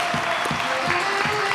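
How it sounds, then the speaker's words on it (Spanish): Interview audience applauding Alex Sánchez, a short burst of steady clapping with a faint hum and low voices underneath. "Pido, Andrés, un fuerte aplauso para el gran Alex Sánchez"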